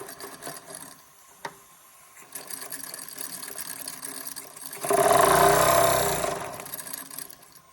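Jensen Model 75 toy steam engine running, a faint mechanical whir and clatter that swells into a louder, steady chuffing roar for a couple of seconds before easing back down.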